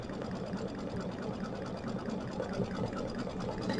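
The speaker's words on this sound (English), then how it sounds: "there goes the satin stitch" An embroidery machine stitching a satin stitch runs steadily and fairly quietly, a fast continuous needle chatter with an even rhythm throughout.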